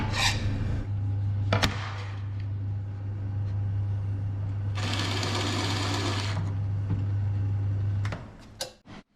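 A power drill bores a pilot hole for short taps in a handmade fountain. It starts with a steady low motor hum, then a louder, rougher grinding stretch as the bit cuts, and stops near the end.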